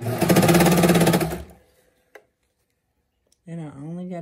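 A sewing machine stitches a folded edge on fabric for a sports bra, running in a loud, rapid buzz for about a second and a half, then stopping, with a voice speaking briefly near the end.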